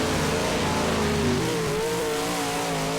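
A race car engine drones loudly and steadily during a night practice session at Iceville Raceway, its pitch shifting partway through as it runs, with no voices over it.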